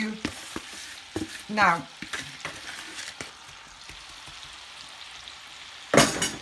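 Apples with sugar, lemon, cinnamon and nutmeg are stirred in a small pan, giving soft scraping and clicking strokes over a faint sizzle, with a brief voice and a louder clatter near the end.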